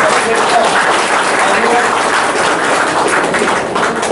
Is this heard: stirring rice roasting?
no